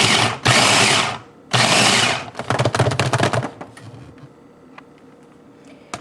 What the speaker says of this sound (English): what the recipe says is to pulse it in a food processor